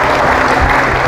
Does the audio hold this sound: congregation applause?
yes